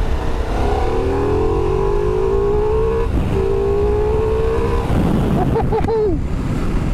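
Motorcycle engine on the move, loud and close, with a rising whine that climbs steadily, then a shift and a few quick revs near the end.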